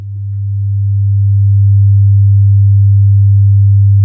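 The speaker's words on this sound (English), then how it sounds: "Let's hear sound on defined frequencies like, for example, 100 Hz" A steady, low 100 Hz sine tone holds unwavering for about four seconds, fading in gently at the start and sounding alone with no other noise.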